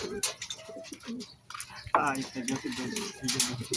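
Racing pigeon cooing, soft repeated coos under someone talking close by, with some background noise.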